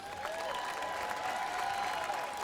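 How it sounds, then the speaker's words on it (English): Audience applause at a Tunnel to Towers event honoring fallen first responders, a steady, moderately quiet wash of many hands clapping in a large venue, with a faint tonal hum running underneath. "Another round of applause, everybody."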